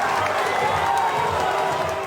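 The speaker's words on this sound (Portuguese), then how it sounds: "A torcida aplaudindo o time." A football stadium crowd applauds the team in a dense, steady wash of clapping and cheering that stays level throughout, with no single voice standing out.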